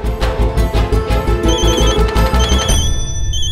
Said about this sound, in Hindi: किसका फोन है, किसका फोन है, जल्दी देखो।